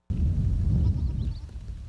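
Boer goats bleat loudly and close by in a single continuous, rough burst with a deep rumbling undertone.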